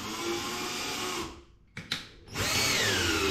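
Parkside PBSA 12 D4 cordless screwdriver driving a screw, a loud steady motor whine that cuts out briefly with a couple of clicks, then resumes at full speed, close by with no talk.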